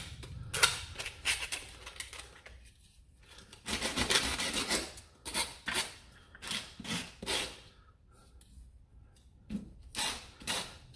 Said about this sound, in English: you want to sand the edge because you don't want to hurt yourself on it